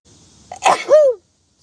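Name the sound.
a big sneeze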